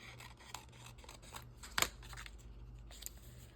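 Scissors snip through paper for a junk journal, with several soft rasping cuts and one sharp, louder snip near the middle, recorded close and quiet with no talking.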